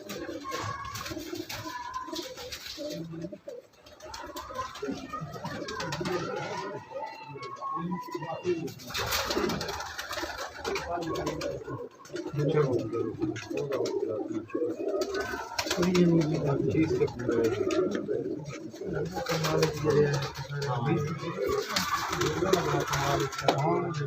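Gadra pigeon from a Pakistani high-flying breeder's loft cooing repeatedly, with bird calls layered under steady nearby talk throughout.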